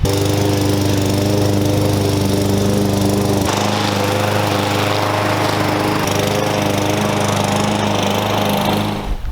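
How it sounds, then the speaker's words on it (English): A lawn mower cuts Bermuda grass turf down to 1 inch, its engine droning loud and close throughout, the tone shifting partway through before the sound trails off at the end. "I cut the grass, like I said, at 1 inch"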